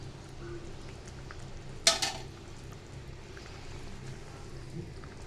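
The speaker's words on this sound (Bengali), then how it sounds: "এই যে লাউটা ভালো করে কষাই নিতেছি" Bottle gourd is sautéed in a pan with a soft, low sizzle and gentle stirring, and one sharp utensil clank rings out early before the quiet frying carries on.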